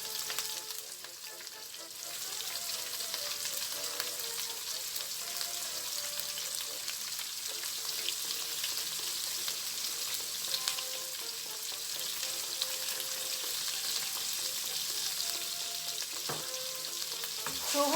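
Pork sizzles steadily in a hot pan with salt and pepper, a dense, even crackle of frying that holds without pause throughout.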